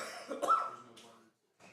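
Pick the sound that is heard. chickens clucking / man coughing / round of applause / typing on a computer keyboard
man coughing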